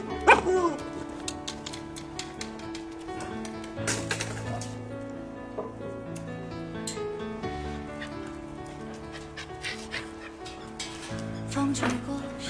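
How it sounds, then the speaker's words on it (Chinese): Two puppies about two months old scuffle and bark at each other, with repeated short yips, growls and whimpers coming in bursts at close range over a faint background. "底下呢还有一个小狗，你看他俩打架"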